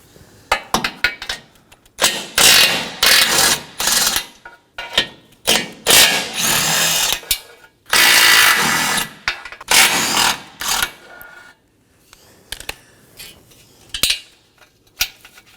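A hand ratchet clicks in rapid, irregular bursts, loud and close, as 13mm nuts come off the bumper impact absorber bar of a 2015-2023 Nissan Maxima 3.5L V6, with metallic clinks between the runs.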